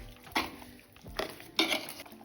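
Mutton chops are mixed with ground paste, salt and a spoonful of oil. Three faint, separate bursts of scraping and clattering come from the mixing, with no voice.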